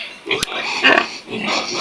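A breeding sow pig grunting in a short burst of a few nasal grunts, close and fairly loud, with background noise and no clear speech.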